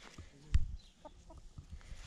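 Chickens clucking close by in a farmyard, short soft clucks over a low outdoor background with no talking.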